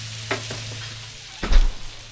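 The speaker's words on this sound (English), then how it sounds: "get them in here and chop them up. Get a little bit of grill to them." Lemons chopped and grilled on a converted flat-top griddle, giving a steady sizzle with a sharp scraping chop near 0.3 s and a louder cluster of chopping and scraping around 1.5 s, no voices.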